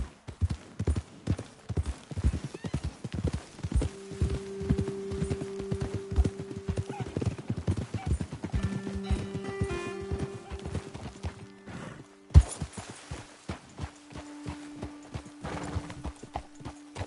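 Horses in a western video game trot along with a dense, rhythmic clip-clop of hooves. Several neighs break in partway through, a sharp knock sounds near the end, and voices talk quietly between the hoofbeats.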